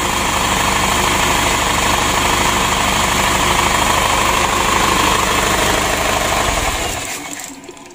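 A rebuilt Isuzu ELF NKR 71 engine runs close and loud with a rapid, even knocking throb. It holds steady for about seven seconds, then winds down as it is shut off.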